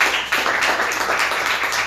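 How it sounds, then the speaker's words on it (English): Audience applause for the performers at a live show, a dense, steady wash of many hands clapping that holds fairly loud and even throughout, with no talk over it. "round of applause for all the performers that have come up so"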